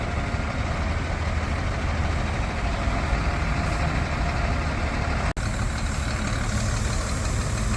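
The engine of a Sinotruk HOWO 8x4 water sprinkler truck with a 40,000-liter tank idles with a steady, dense low rumble that runs throughout, broken only by one brief click near the end.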